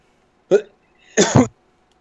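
Two abrupt throat bursts: a short sharp one, then a longer, rougher one a moment later, close and fairly loud, like a cough.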